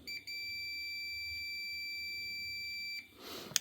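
A Fluke multimeter's continuity tester emits a single steady, high-pitched electronic tone lasting close to three seconds, clean and sustained before cutting off, followed by a faint rustle.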